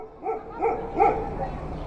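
A dog gives three or four short, whiny yelps and barks in an even rhythm, fairly close, with a faint murmur behind.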